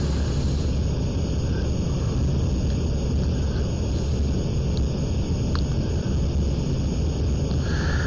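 Steady, loud engine drone of an airplane flying in the Aerofly FS 2 flight simulator game, a continuous broadband rumble with a faint high whine, alone and unbroken throughout.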